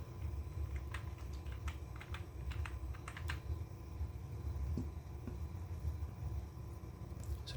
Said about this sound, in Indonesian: kita ketikkan restore.